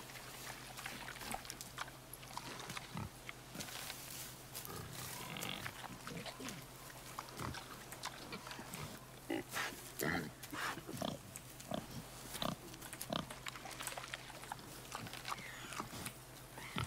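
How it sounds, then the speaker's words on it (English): A boar in the video game God of War grunts and snorts repeatedly in short, irregular bursts over a low, steady background ambience, with occasional faint speech. "Boar's hide is thick."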